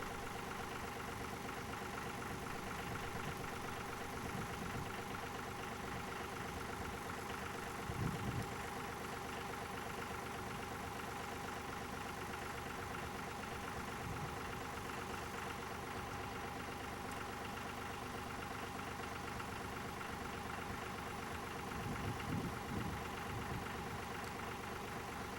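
A tractor engine runs steadily while plowing a snowy field on a diagonal, a constant mid-to-low drone with no talk and a couple of brief louder surges along the way.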